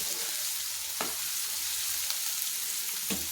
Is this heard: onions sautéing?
yes